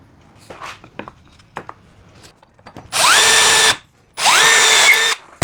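A power drill pre-drills holes in a wood shelf unit, two sustained whirring bursts of about a second each with a pitch rising as the motor spins up, following quieter handling clicks and knocks.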